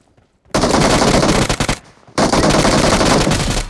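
A UMP submachine gun fires in the mobile game PUBG Mobile, loud sustained bursts of rapid automatic fire with a brief gap between two long sprays, no talking over it.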